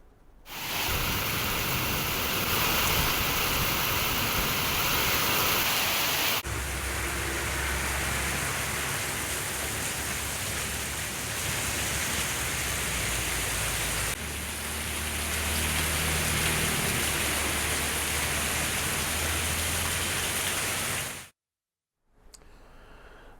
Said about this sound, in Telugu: వర్షం ఇప్పటికీ దంచుకొడుతోంది